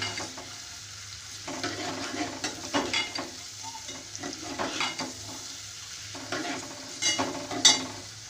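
Onions frying in a pan for matar keema, cooked until light brown, with a steady sizzle broken by repeated scraping stirs of a spoon against the pan.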